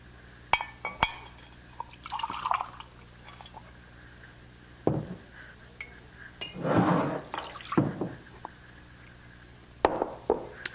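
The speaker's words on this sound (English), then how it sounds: "Here's the soy sauce. I'll measure out half a cup." Soy sauce poured into a measuring cup in a home kitchen, heard as short liquid splashes and glassy clinks in separate bursts, with a longer pouring stretch in the middle and quiet gaps between.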